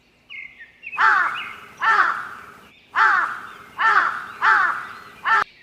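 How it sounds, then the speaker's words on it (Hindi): A cartoon crow caws loudly and close in a series of six harsh, rasping calls spaced about a second apart. "दोनों मिलकर फिर कालू कौवा को बहुत मारते हैं।"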